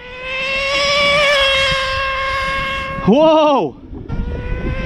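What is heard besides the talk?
HPI Nitro MT2 nitro RC truck engine at full throttle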